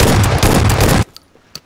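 Rapid automatic gunfire from a weapon in PlayerUnknown's Battlegrounds, a loud dense burst lasting about a second, then a couple of faint shots.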